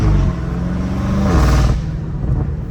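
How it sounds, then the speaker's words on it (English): Straight-piped BMW M5 Competition V8 roars loudly and continuously up close, a deep rumbling drone with a pitch shift midway as revs change, turbo whoosh and intake suction layered over the exhaust. "Turbo noise, so the turbo's sucking in"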